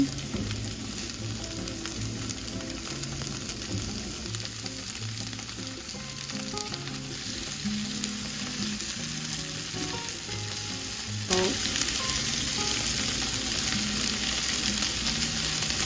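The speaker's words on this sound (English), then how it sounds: "once we start to hear the sizzling, I'm gonna add some salt" Continuous crackling sizzle of chicken frying in hot oil in a pan, close and steady, growing slightly louder partway through, with faint background music.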